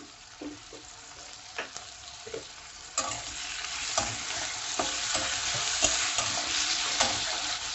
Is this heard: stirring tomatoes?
yes